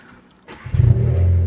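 A Seat Leon MK3 car engine starts up: a quiet pause, a sharp click of the starter, then the engine catches and settles into a close, steady idle.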